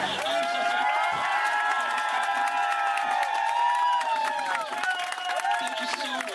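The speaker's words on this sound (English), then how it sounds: "Standing ovation." Audience on the Jungle Cruise ride at Walt Disney World cheering and clapping, a steady wash of applause and shouts with a bright whistle-like tone running through, while a voice talks over it.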